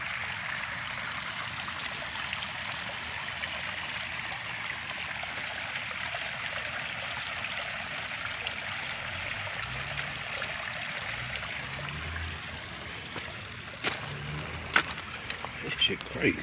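Steady rush of house drain water spilling into a stream in Takoma Park, Maryland, a continuous close trickling wash with a few sharp knocks near the end.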